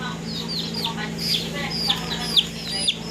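Chicks clucking and peeping close by: a string of short, high calls over a steady low hum.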